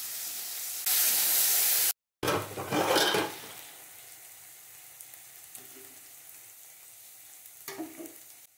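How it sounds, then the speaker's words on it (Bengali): Thin slivers of potato drop into hot oil with a loud burst of sizzling, then settle into a steady, quieter fry broken by scraping stirs and occasional bubbling. "এখন তেলের মধ্যে আমি আলুটা দিয়ে নিলাম। আলুটা দিয়ে একটু নাড়াচাড়া করব আমি।"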